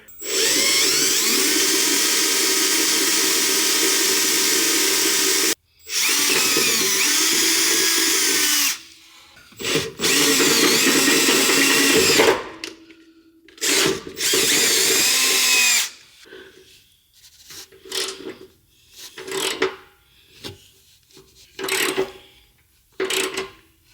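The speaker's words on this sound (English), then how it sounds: "you do have to do the drilling and the tapping and all that stuff into the frame" A power drill grinds into a 2022 Ford F350 truck frame in long steady runs, then in shorter choppy spurts separated by brief pauses, close and loud.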